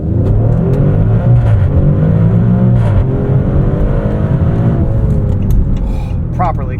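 Maserati Grecale Trofeo in Corsa mode launching hard from a standstill, the engine roaring loudly as it climbs through the revs close up, with a voice speaking over it.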